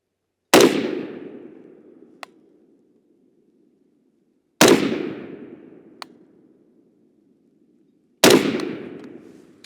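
Three loud, close rifle shots from an Adam's Arms gas piston rifle, spaced about four seconds apart, each a sharp crack followed by a long decaying echo outdoors.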